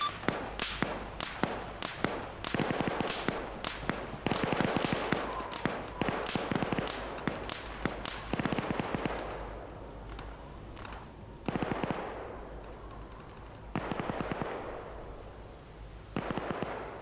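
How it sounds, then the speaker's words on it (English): Video game gunfire rattles off in rapid, loud volleys of closely spaced shots, then thins into shorter, scattered bursts. "We're currently being shot at."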